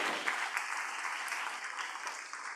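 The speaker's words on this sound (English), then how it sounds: "let's give them a round of applause" An audience at a pitch competition finals evening gives a round of applause, a steady, even wash of clapping from a fairly distant crowd, with no voices.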